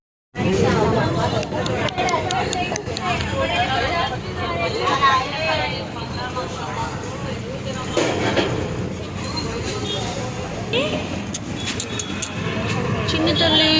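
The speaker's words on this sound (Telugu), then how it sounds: "మళ్ళీ అక్కడి నుండి డైరెక్ట్ మదీనాకి బస్ వేస్తుంటే ఆ బస్సులో అయితే వెళ్తున్నాము ఇప్పుడు." Riding inside a city bus in Hyderabad, a continuous engine rumble and road noise under steady nearby talking and background chatter of passengers, with occasional rattles and clunks.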